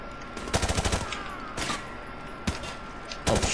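Unsuppressed gunfire in Modern Warfare Remastered: quick bursts of loud automatic shots followed by separate single bangs, sharp and close over a steady game background.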